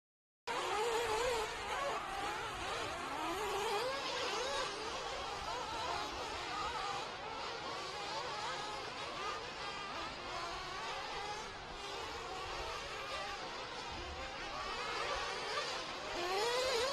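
A field of RC truggy race cars runs laps around an outdoor race track, their engines blending into a constant, thin, buzzing whine heard from some distance.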